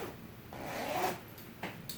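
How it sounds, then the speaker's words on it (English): Zipper sewn onto a handmade fidget quilt, pulled up and down: soft, quiet rasping strokes, one longer sweep followed by a couple of shorter ones, with no talk over them. "The zipper actually zips up and down."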